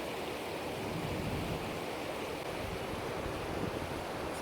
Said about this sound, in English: All this water pouring out from this massive tunnel